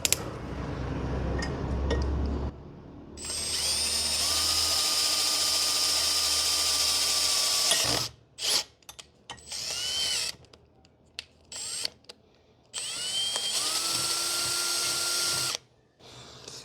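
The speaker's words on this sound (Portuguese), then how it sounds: "Aplica só um pouquinho de peso e deixa a broca ir cortando o metal." A Makita DHP490Z brushless cordless drill bores into metal with sustained high whining runs and brief stops between bursts, loud and close, with some metallic clinks and no talk.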